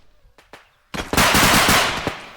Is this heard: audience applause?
no